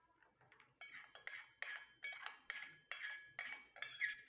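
A metal utensil scrapes a cooking pan while hot homemade tomato cream is transferred into a bowl, giving about eight sharp, close scraping strokes in a quick, regular rhythm after a short quiet start.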